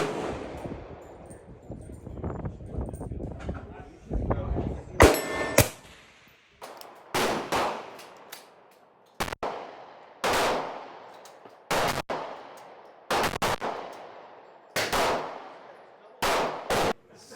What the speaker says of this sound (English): So I'm getting a good shooting session going on over here.